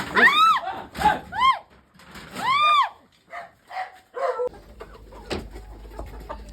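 Chickens cluck and squawk in short bursts, some calls rising into loud drawn-out cackles, with a few quieter clucks and faint background noise between.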